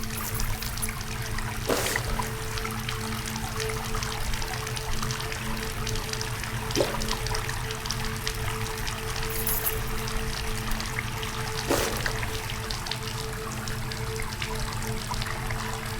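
Water from an opened tap in an eerie asylum horror game pours in a steady low wash, with a faint continuous hum and a few soft knocks spaced through it.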